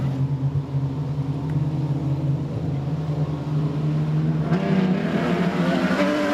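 Production sedans race at Maryborough Speedway, their engines droning loudly and steadily. A stronger roar builds toward the end as cars close in.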